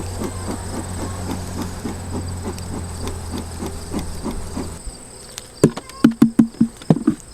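Honeybees in an opened hive being smoked produce a steady, close insect buzz under a soft hiss. Near the end the buzz gives way to a run of sharp, rhythmic puffing bursts.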